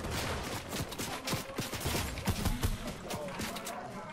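Rapid gunfire rattles in a multiplayer video game shooter, with bursts of repeated shots at a moderate, somewhat distant level.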